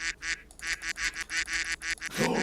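A soundboard duck quack effect fired over and over, about ten bright nasal quacks in a quick, even rhythm, clear and close, ending in a short burst of other noise.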